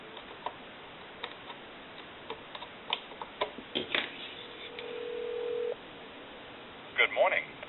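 Scattered clicks and ticks from the line of a wood wall crank telephone converted for modern lines, a short steady tone, then a few louder clunks as a call is placed.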